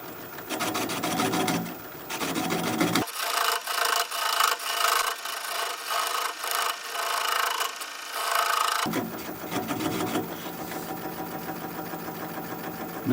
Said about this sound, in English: Now I'm going to take a 3/8 inch swept-back bowl gouge so that I can get in there a little tighter and just keep working it away